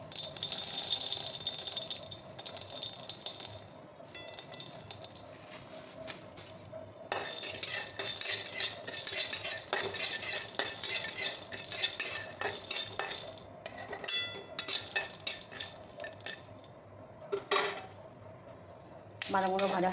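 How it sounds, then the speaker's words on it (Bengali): Peanuts being dry-fried and stirred in a pan, loud rattling and clinking of nuts and a metal spoon against the pan in bursts with short pauses between. "আমি বাদাম ভেজে নেবো এবার।"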